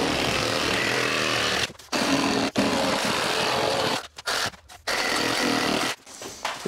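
Hand saw cutting plasterboard to follow a rough opening during drywall installation, a loud, steady rasping close by, broken by several short pauses between strokes.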